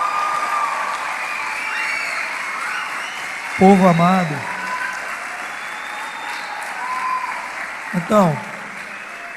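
A church congregation at a carnival conference applauds a couple in a continuous, fairly distant wash of clapping, while a preacher speaks a few words over it in two short bursts.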